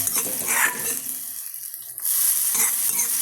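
Grated coconut tipped into a pan of bandi, a North Kerala curry, with the flame switched off, sizzling and hissing while being stirred, with a brief quieter pause in the middle before the frying resumes.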